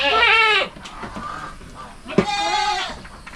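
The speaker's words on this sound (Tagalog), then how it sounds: "mga kambing natin sa kumpay na kinuha natin mga kasama" Goats on a farm bleat loudly while waiting for freshly cut napier grass fodder, two long wavering bleats close to the microphone separated by a brief pause with quieter background noise.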